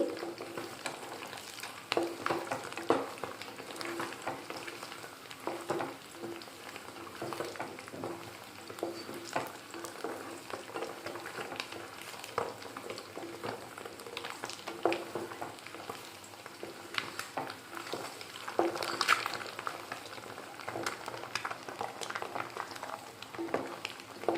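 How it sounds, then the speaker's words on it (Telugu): Boiled eggs frying in hot oil for an Andhra-style egg and flat bean curry, a steady close sizzle with stirring scrapes and scattered sharp pops throughout, no voices. "ఇవి ఇలా బ్రౌన్ కలర్ వచ్చే వరకు వేయించుకోవాలి అప్పుడప్పుడు గుడ్లు పేలుతూ ఉంటాయి చూసుకుంటూ ఉండాలి"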